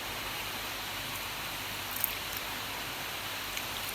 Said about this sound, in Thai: วันนี้เสียงฝนตก พอดีวันนี้ฝนตก